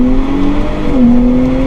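A stock Nissan Z sports car engine revs steadily up close, its tone dipping once and settling again, loud and continuous with no talking.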